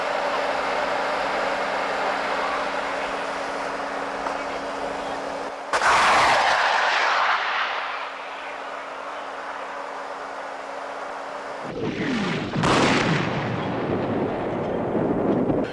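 Artillery guns fire on a radioed command, two heavy booming blasts several seconds apart, each with a long rumbling roar and echo across open ground, over a steady low background hum.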